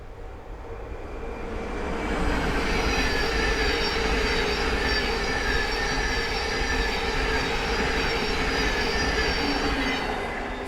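A Thameslink Class 700 passenger train rushes past close by on the East Coast Main Line at Sandy, its loud steady roar swelling in and holding, with squealing wheels and rail rumble.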